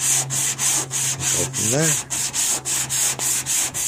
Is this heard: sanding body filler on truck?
yes